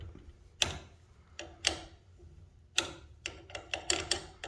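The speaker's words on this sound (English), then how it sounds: "So we'll go ahead and loosen this bolt." A wrench works a bolt loose on a garage door opener chain, giving faint, irregular metallic clicks and ratcheting ticks, a few sharper snaps and then a quicker cluster near the end, with no talk.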